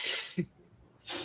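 A single quick sneeze: a sharp breathy burst, a brief throaty snort, then a second hissy exhale, close and clear with no talk.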